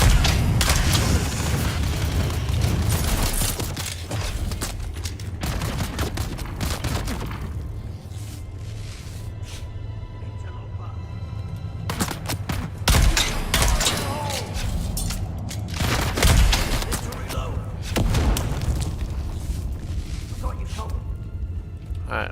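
Gunfire cracks in the video game Dune Awakening, arriving in loud, dense bursts of shots and booms. Quieter gaps separate the volleys, and a voice talks over the action.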